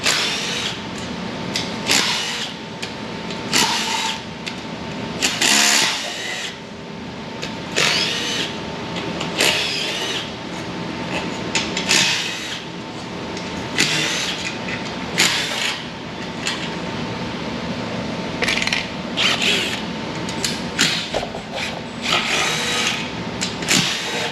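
Clicks and ratchet-like taps from hand tools loosening 10 mm bolts around the oil pan of a GM LS4 V8 during a cam swap teardown, irregular bursts close by over a steady hum, no talk.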